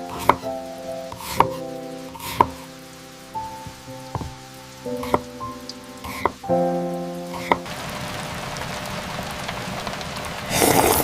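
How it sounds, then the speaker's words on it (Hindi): Rain in a cozy Ghibli-style animated scene, heard as scattered sharp drop-like taps over soft tonal sounds, then a steady hiss of falling rain building toward the end. "बारिश भी हो रही है"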